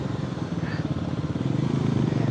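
A motorcycle climbing uphill in second gear on a mountain road near Gangtok, its engine throbbing in a steady, close, labouring pulse that grows slightly louder toward the end.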